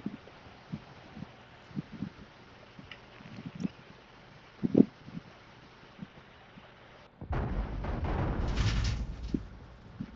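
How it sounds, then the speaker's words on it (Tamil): Muffled booming blasts thud at irregular intervals, then a louder, rumbling burst of explosions swells near the end, with no talking, from mines in the video game Warzone 3. "என்னடா வெடிக்குது எல்லாம்?"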